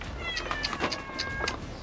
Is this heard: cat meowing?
yes